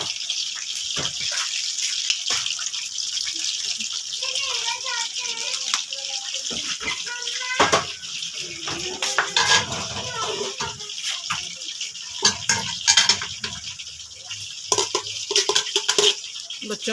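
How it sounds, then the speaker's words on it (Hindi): Chicken fries in a pan with a steady, bright sizzling hiss that runs throughout, broken by occasional clatters and handling noises while people talk, including a voice. "और ये हमारा चिकन अभी फ्राई हो रहा है।"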